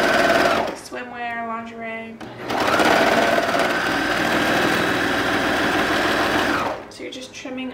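Sewing machine stitching a 3/8 inch seam on stretchy boxer briefs, a steady mechanical whir that runs in a few bursts, loudest in one long continuous run, with someone talking between and over the stitching.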